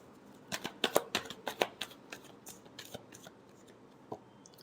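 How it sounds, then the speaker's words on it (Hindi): Tarot cards get a last quick shuffle, a rapid run of crisp riffling snaps close by, tapering to a few scattered taps. "last shuffle"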